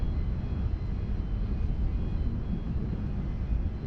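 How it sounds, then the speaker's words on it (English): An Air Calin Airbus A330-900neo departs runway 34 right at Sydney Airport, a steady broad jet-engine roar heard from a distance, constant and fairly loud throughout. "our next departure over there off runway 34 right is the Air Calin 1410 A330-900 Neo, heading back to Noumea"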